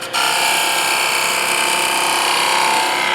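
A wood turning tool takes a light, fine cut on a spinning workpiece, giving a steady, continuous high hiss that holds level throughout.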